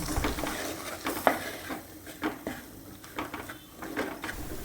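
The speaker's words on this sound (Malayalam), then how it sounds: "ഒരു 3-4 മിനിറ്റോളമൊക്കെ ഞാനിത് ഇളക്കിക്കൊണ്ടിരിക്കുകയാണ് കേട്ടോ." Potato masala curry with turmeric and spices stirred in a pan, a close series of irregular scraping and clinking spoon strokes against the metal over a soft sizzle.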